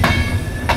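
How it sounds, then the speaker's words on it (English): Norway's Golden Train pulls into the station, a brief close rumble of rolling wheels with two short bursts of squeal or hiss. "There's our train right behind me."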